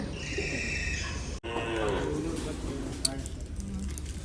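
Pigeons coo softly in the background while people talk nearby, with a sharp click partway through.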